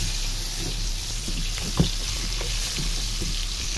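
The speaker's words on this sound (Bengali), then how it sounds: "একটা একটা করে ভাজতে হবে" Marinated whole Sonali chicken frying lightly in a pan in a home kitchen, one piece at a time: a steady, close sizzle runs throughout, with a single soft knock partway through.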